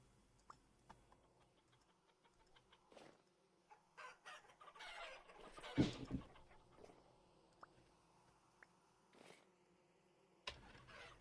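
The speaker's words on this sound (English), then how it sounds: "Chickens! I require eggs!" Chickens in the video game Vintage Story cluck and crow in scattered bursts, soft and fairly distant, alongside faint game sounds and no speech.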